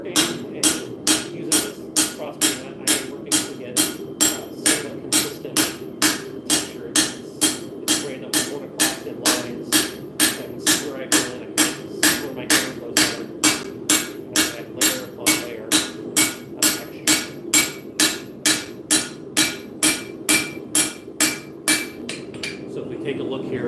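Hammer blows on a wooden crossbeam, struck in a steady, even rhythm of about two per second for over twenty seconds, loud and close, with no talk over them.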